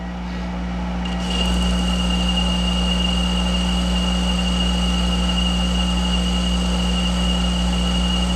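A Monarch 10ee lathe turning tough pre-hardened metal at 700 RPM hums steadily with a low drive drone, and a thin high whine from the cut joins in after the first second and holds to the end.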